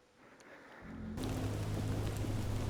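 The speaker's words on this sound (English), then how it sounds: "Oh, it's raining?" Rain in the Saints and Sinners video game sweeps in from a quiet start, swelling quickly into a loud, steady hiss of falling water that holds to the end.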